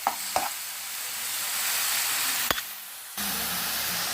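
Thick ground paste stirred into hot oil in a pan for egg malai curry, a steady close sizzle and hiss with a few sharp spoon knocks against the pan, running alone without talk.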